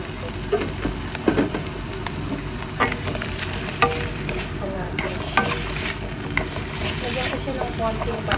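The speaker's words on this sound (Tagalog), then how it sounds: "ilalagay ko na yung patatas at saka carrot" Potato and carrot fry in a pan with a dense crackling sizzle, irregular spatters and occasional scraping stirs, close up, with a faint voice in the background at moments.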